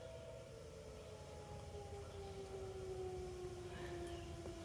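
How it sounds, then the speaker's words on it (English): A faint, distant siren wails in a long, slowly falling tone over a steady low background rumble, heard from the Appalachian Trail. "Y'all hear that siren?"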